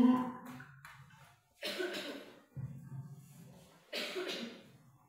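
A teacher with a cold and flu coughs in a classroom lesson, three separate bursts of harsh, close coughing with short pauses between them and no talk.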